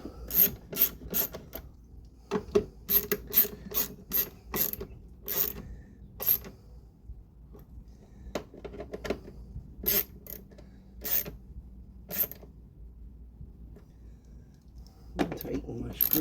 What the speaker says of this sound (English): Tighten my screws.